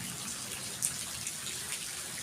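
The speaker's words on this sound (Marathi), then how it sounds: "जवळपास 30 ते 40 मिनिटे सलग पावसाच्या सरी जोरदार कोसळलेल्या आहेत" Heavy rain pours in a steady, dense hiss and splatter outdoors, with a few brief louder splashes, continuous and fairly close.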